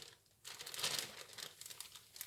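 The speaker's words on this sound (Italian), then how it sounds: "lo togliamo dalla plastica" Plastic packaging is crinkled and peeled away from a new HP EliteBook 840 G8 laptop, beginning after a short quiet moment with close, bright rustling and crackling that rises and then continues in smaller bursts.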